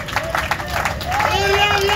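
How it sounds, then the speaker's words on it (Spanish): Church congregation applauding during a lively worship service, a dense crackle of clapping with crowd voices and shouts mixed in throughout. "Es un aplauso a Cristo fuerte."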